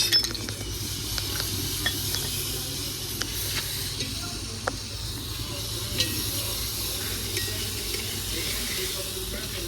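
Steady sizzling and crackling of spices tempering in hot oil in a pan, a dense continuous hiss with occasional small pops, close by, no talking.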